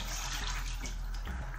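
Soaked beans are rinsed in water, giving a dense, continuous splashing and rushing flow that stays close and steady throughout, with no voices.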